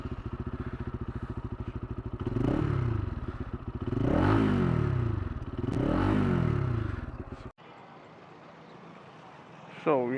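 A Lifan KPT 150 4V motorcycle, 150cc, idles through its stock exhaust with a steady throb. It is revved three times in rising and falling swells, then cuts out abruptly. Close and loud.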